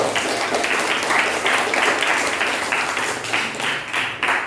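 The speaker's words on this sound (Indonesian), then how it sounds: "Tepuk tangan untuk itu" Classroom audience applauding after a group presentation, a dense, steady wash of many hands clapping throughout at moderate loudness.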